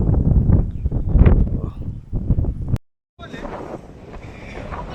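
Strong wind buffets the microphone on the Ponmudi hilltop in monsoon weather, with low rumbling gusts. Talk runs over the first part, then a brief dropout, and the wind carries on alone afterward.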